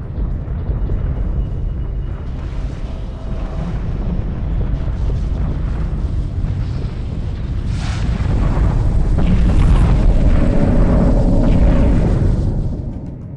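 Explosions in a Homeworld 2 cutscene as a base is destroyed: a continuous, loud, rumbling roar of blasts that swells toward the end, with deep low-end weight and a few sharper bursts within.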